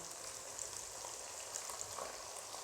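Garlic and onion fry in a pan over a medium flame, giving a soft, continuous sizzle that stays faint and even throughout, with no voices.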